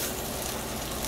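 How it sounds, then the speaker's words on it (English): Salmon pieces sizzle steadily in a frying pan, a dense continuous hiss of hot oil that stays loud and even, with no voices heard. "I'm just turning them in the frying pan."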